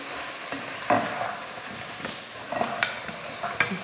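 Masala spices stirred in a hot frying pan for chicken gravy: a steady sizzle with scraping spatula strokes and a few sharper clinks, close and moderately loud, no voices.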